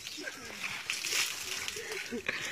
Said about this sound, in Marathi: हे पांढरं फेक दूध आहे, आम्ही ओतून द्यायला लागलो.